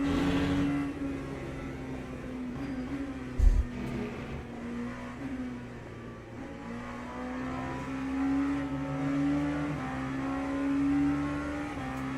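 An LMP3 prototype race car in Le Mans Ultimate whines steadily nearby, its engine pitch rising and falling as it passes close, with a brief thump midway.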